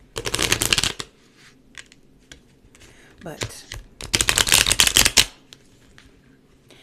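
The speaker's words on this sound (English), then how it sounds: "So I want to shuffle the deck here a couple times." A tarot card deck is shuffled in quick rattling bursts, one at the start and a longer one later, with soft card handling and a brief spoken word between them.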